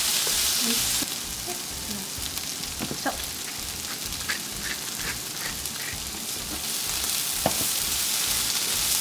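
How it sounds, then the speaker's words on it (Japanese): Chikuwa stir-fries in a pan with mentsuyu, ginger and sesame, giving a steady close sizzle with light scraping and stirring taps throughout and no talking. "ちくわに火が入ってきたところでめんつゆ小さじ2で生姜でごまも入れます。 で炒め合わせます。"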